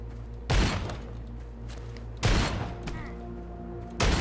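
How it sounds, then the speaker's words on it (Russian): Three sharp gunshots ring out about every one and a half to two seconds in the survival game Dawn of Zombies Survival, each a loud broadband crack over a steady low in-game hum. "Фига себе, он стреляет."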